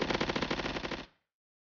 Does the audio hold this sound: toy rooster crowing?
no